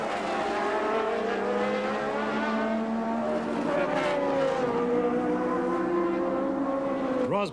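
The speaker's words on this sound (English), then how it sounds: "Up at the front, the Renaults were racing the Ferraris." 1982 Formula 1 Renault and Ferrari racing cars scream past in a continuous, loud, high-revving engine wail whose pitch rises and falls as they speed by, with crowd noise underneath.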